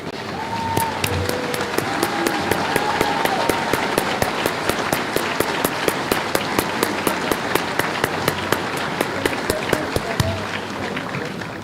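A graduation audience gives a sustained round of applause for El Dorado High School graduates, a dense even clatter of many hands with sharp, regular louder claps standing out near the front throughout.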